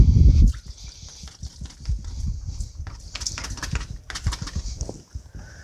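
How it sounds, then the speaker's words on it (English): Liquid from canned artichoke hearts is drained through a can strainer into a kitchen sink, with an initial low gush followed by uneven gurgling, splashing and dripping up close. "It just goes right over the top, and you just drain it right into the sink."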